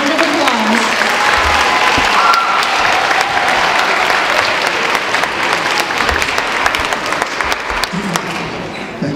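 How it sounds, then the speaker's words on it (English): Loud, sustained applause from a large audience at a Veterans Day musical salute welcoming the mayor, a dense steady roar of many hands lasting throughout with a slight fade near the end. "Let's welcome him with a round of applause."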